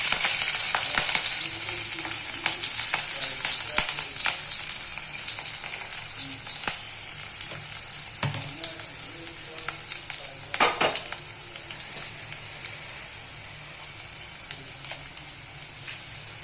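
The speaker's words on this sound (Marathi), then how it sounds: "तेलामध्ये मिरची टाकून घ्यायचे खूप उडतो लसूण" Chillies and garlic fry in hot oil, a dense steady sizzle and crackle lasting throughout, with occasional sharp spatters and a few utensil taps close by; no talking.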